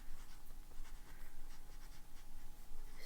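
A fountain pen with a medium nib, inked with Sailor ink, scratches steadily across paper in a soft, continuous, close-up writing sound without speech.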